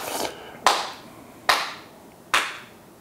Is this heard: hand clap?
yes